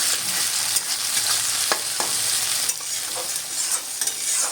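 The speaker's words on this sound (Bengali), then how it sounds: "আবারও বেশ কিছুক্ষণ নেড়ে নেব যাতে টমেটোটা খুব ভালো মতো সেদ্ধ হয়ে যায়।" Finely chopped tomatoes frying for masoor dal tadka are stirred in a pan, giving a continuous close sizzle broken by scraping, clicking strokes of the spoon.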